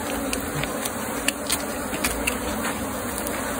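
Honey bees buzz steadily around an open hive box during work on a honey super, a dense continuous drone close by with occasional louder passes of single bees.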